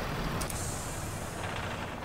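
Truck with air brakes in the Farming Simulator 19 video game, a loud continuous rumble of engine and air noise with a brief hiss near the start.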